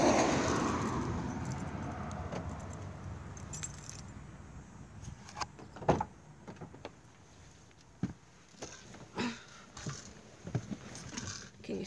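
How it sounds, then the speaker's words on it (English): A car door is opened amid a loud jangle of keys, followed by several sharp clicks and knocks. No one speaks. "Gotta open my door."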